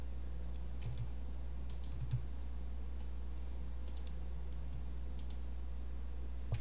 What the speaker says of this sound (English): Either typing them or just clicking the buttons.